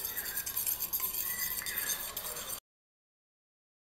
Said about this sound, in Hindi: अंडे में थोड़ा सा मैं नमक ऐड कर दूंगा। ये गया अंडे के अंदर नमक एंड इसको थोड़ा अच्छे से फेंट लेंगे।